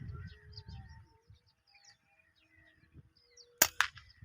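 A QS airgun fires a single sharp, close crack while hunting rosy starlings in Pakistan, followed by a brief rattle, after faint birdsong and low murmuring.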